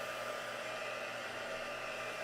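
Hair dryer blowing on paint to dry it, a steady, even whooshing hum held at a constant faint level throughout, with no speech.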